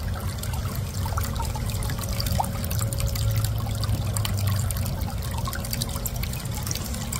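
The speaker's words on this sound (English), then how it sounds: "And then fill your saltwater bottle from the source of water that you're going to treat" Water trickling and pouring steadily into a saltwater bottle being filled from a water source for treatment, a continuous soft splashing with a low background hum, no talk.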